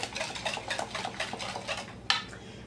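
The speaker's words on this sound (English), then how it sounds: "A fourth of a cup of sugar. Stir that in a little bit." A utensil stirs sugar into pecan pie filling, scraping and clinking rhythmically against the bowl in quick repeated strokes, closing with one sharper knock.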